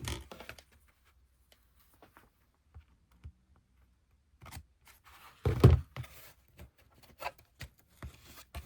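Scissors snip cardboard packaging being upcycled into a folio journal, making a few close, sharp cuts in the middle with scattered light taps and handling noises around them.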